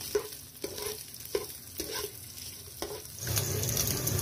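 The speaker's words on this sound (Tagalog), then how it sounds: "Ilagay natin yung mantika sa mainit na kwali. Pagkatapos ay yung pork. Lagyan din natin ito ng asin. At haluin." Cubed pork fries in hot oil with salt in a wok, sizzling steadily while a utensil scrapes and stirs in regular strokes, close and clear, and the frying swells louder near the end.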